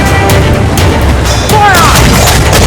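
Heavy ship cannons fire in Assassin's Creed Black Flag, with deep booms and crashes rolling over a dense, loud naval battle din while crew voices shout partway through.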